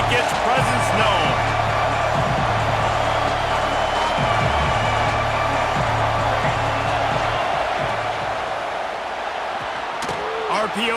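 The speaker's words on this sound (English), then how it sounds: "This crowd ready to make its presence known." A packed stadium crowd roars continuously at a college football game in the EA Sports College Football 26 video game, a dense, loud wall of cheering with a commentator talking over it.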